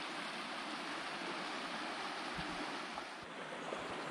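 A river flows through a steep canyon with a steady, close rushing wash of water that stays broad and even throughout.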